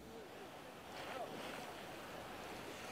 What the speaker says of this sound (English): This is a record surge of water, Diane, that we're witnessing right now.